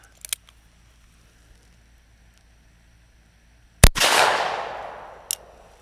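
A Ruger Blackhawk .357 Magnum revolver fires a single CCI Big 4 shotshell, a loud sharp crack followed by a long rushing, decaying roar, with a couple of small clicks before and a brief knock after.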